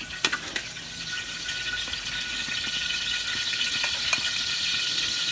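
Onions sizzle as they are stir-fried in oil left over from frying tempe in a wok. The bright frying hiss is steady and close, with a few sharp clinks of a utensil early on.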